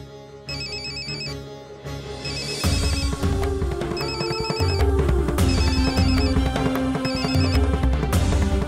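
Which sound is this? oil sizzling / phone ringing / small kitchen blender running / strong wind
phone ringing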